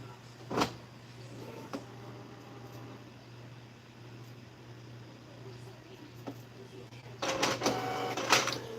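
A printer runs in a manufacturing shop over a steady low hum, with a brief clunk early on and a louder burst of mechanical feed noise near the end.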